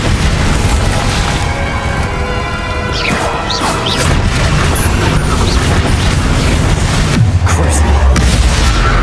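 A loud Bombarda spell explosion bursts in Hogwarts Legacy, a heavy boom with crashing debris amid dense ongoing combat noise and magical effects.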